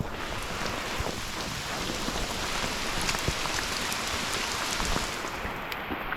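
Steady, heavy rain pours down in the Smoky Mountains in a continuous hiss, with a few louder drops and a faint low rumble underneath.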